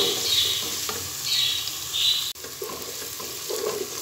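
Crushed onion, ginger, garlic and coriander frying in a pan for Punjabi dhaba-style aloo baingan, giving a steady close sizzle with stirring scrapes throughout and no talk.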